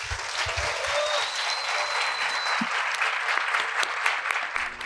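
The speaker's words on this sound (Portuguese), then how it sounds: "A plateia se despede do autor com uma salva de palmas." A seated audience at a literary talk claps for author Jeferson Tenório, a dense, steady burst of applause that fills the room without letting up.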